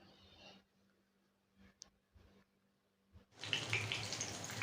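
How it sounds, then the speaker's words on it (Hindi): Bread-coated mutton chops drop into hot oil on a medium flame, and a loud, close sizzle bursts out and keeps crackling steadily. A few quiet clinks and handling sounds come before it. "अब एक एक पीस को हम चाँप की ऑयल में डालते जाएंगे।"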